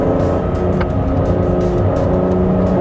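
Aston Martin DB11 on a race track, its engine a loud, steady, close roar with continuous harmonic drone and no pauses across the stretch.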